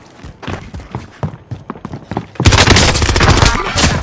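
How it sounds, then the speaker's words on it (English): Heavy, sustained gunfire from a Call of Duty Warzone firefight on Rebirth Island: scattered close shots crackle at first, then a dense, loud barrage of automatic fire takes over the second half without a break. "Taking heavy fire."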